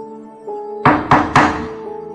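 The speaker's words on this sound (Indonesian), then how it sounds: "terdengar ada yang mengetuk pintu." Three firm knocks on a door in quick, even succession, close and loud over a faint sustained tonal background, used as a sound effect.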